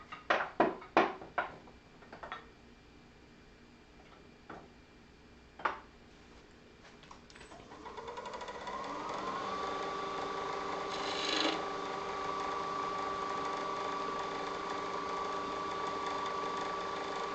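A spindle gouge hollowing wood on a lathe: a few sharp knocks and taps, then the lathe spins up into a steady hum as the tool scrapes and rasps against the turning wood.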